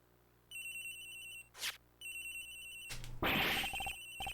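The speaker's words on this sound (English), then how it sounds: "Agent Hicks's phone! It's ringing from somewhere, sir!" Electronic phone ringtone from the Ace Attorney Investigations game, a bright repeating trill in two bursts with a short gap, followed by a louder swelling game jingle.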